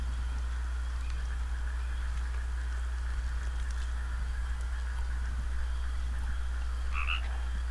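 Frogs croak in the EverQuest 2 video game, sitting in a steady ambient wash with a low hum beneath and a brief chirpy call near the end.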